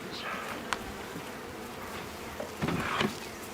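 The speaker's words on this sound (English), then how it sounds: "Does this one got bees? Yeah, that's got bees." Bees buzz faintly in and around a beehive, a soft, continuous drone with a few slightly louder passes nearby.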